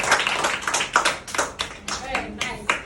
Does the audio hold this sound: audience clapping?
yes